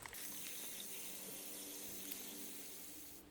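Water pours steadily into the planting hole of a bare root rose in a garden border, a continuous close splashing gush that tapers off at the end.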